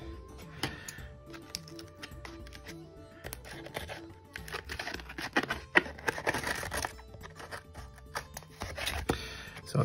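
Scissors snip away excess napkin for an art journal page, a steady run of small crisp cuts and paper rustles close by, moderately quiet with no talking.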